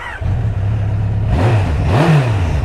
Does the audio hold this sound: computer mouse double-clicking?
no